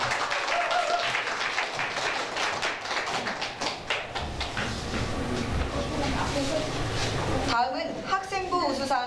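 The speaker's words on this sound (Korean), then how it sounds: "다시 한번 큰 박수 부탁드립니다" Audience applause at a traditional Korean music competition award ceremony for disabled performers, broad dense clapping under loud background music and an announcer's voice, tapering near the end.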